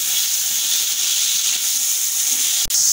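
Garlic-ginger paste, three tablespoons of it, sizzles in hot oil for a chili curry. A loud, steady, bright hiss runs without a break from start to finish, with one sharp click near the end.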